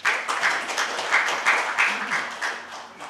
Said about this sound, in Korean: 환영사를 해주신 정재영 대표에게 다시 한번 박수 부탁드립니다